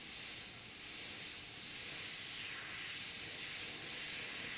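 Airbrush spraying paint onto a Harley front fender, a steady, even hiss of air and paint running continuously without pause, close and fairly quiet, with no talking.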